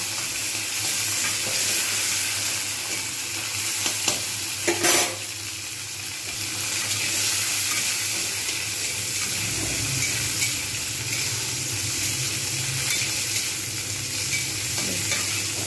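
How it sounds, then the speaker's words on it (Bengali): Jackfruit seeds frying in hot white oil give a dense, even sizzle that runs unbroken for the whole stretch, with a brief sharper burst of crackle near the start; close and steady. "কাঁঠাল দানাগুলো জাস্ট একটু ভেজে নেব।"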